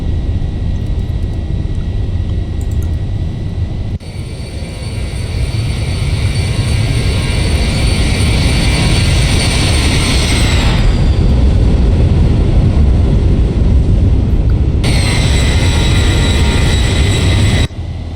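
Boeing 737 jet engines roaring at takeoff power in a flight simulator, a loud steady rumble with whining tones that rise, fade briefly near the middle, then return strongly toward the end.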